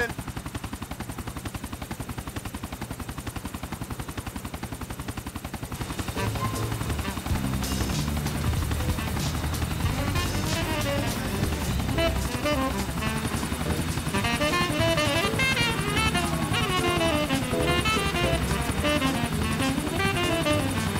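Helicopter in the video game Grand Theft Auto IV, rotor thudding rhythmically and steadily throughout, growing louder midway with bursts of gunfire layered over it.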